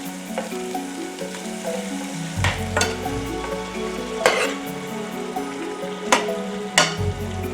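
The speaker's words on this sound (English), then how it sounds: "I'm going to go ahead and put the eggplant in there." Eggplant frying in a pan on the stove, a loud continuous sizzle broken by several sharp spattering crackles and stirring scrapes, heard up close without talk.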